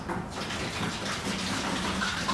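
Old coolant from a 1995 Toyota Land Cruiser thermostat housing poured into a pan, a steady close splashing gush of liquid throughout with no talk.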